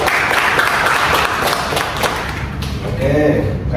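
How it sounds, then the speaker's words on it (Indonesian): Group applause from a small class or counselling group, a short burst of close, loud clapping that thins out toward the end, with some speech-like sound mixed in. "Boleh tepuk tangan teman-teman."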